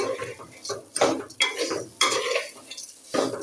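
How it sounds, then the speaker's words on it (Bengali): Rice for biryani is stirred and fried in a pan, with repeated scraping and clanking strokes of a spatula against metal over a faint sizzle, close and uneven in rhythm. "চালটা ভেজে নিই"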